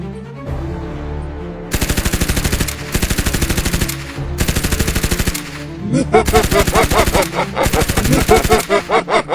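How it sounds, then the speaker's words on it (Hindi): Gunfire rings out in a horror video game, with several rapid automatic bursts separated by short pauses and then a longer, heavier run of shots, loud and close. "अरे ये क्या, ये गन किसने चलाई?"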